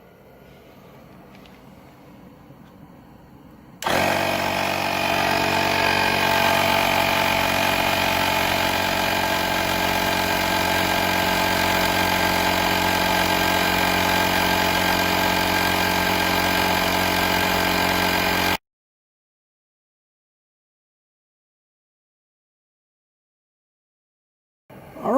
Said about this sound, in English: So let's turn it on, see how long it takes to put 10 or 11 psi in this tire.